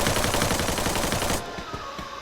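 Rapid bursts of gunfire in a battle royale video game, dense and loud for the first half before dropping to sparser, quieter shots and game ambience.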